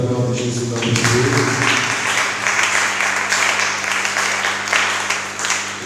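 A church congregation breaks into sustained applause and cheering after being urged to acclaim the name of Jesus, a dense wash of clapping filling the room, with a voice speaking over the start.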